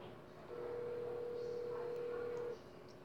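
A single faint electronic ringback tone from a phone call, holding steady for about two seconds over quiet background hiss.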